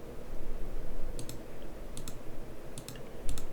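Computer mouse clicking through form fields, four pairs of crisp double clicks spaced roughly a second apart over a steady low background hum.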